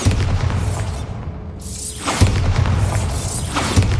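A Bombarda explosion spell in the Hogwarts Legacy video game: a loud booming blast with a shattering burst, briefly dropping away before a second heavy impact and rumbling debris follow.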